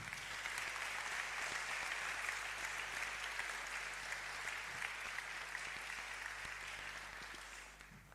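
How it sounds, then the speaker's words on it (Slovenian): Sustained audience applause at a municipal awards celebration in Sevnica, a dense even wash of many hands clapping at a distance, holding steady before tapering off at the end. "Prosim za aplavz."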